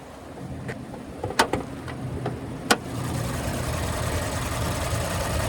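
A tuned Nissan Armada NISMO 3.5-liter twin-turbo V6 idles with a steady low hum, broken by a few sharp clicks and taps early on, then settling into an even, continuous drone.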